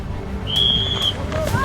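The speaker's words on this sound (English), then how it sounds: "waited for the whistle" A starting whistle for a 5K race at Prestwold Hall, Loughborough, blows as one steady, bright blast lasting about half a second, moderately loud over the outdoor murmur of runners lined up at the start.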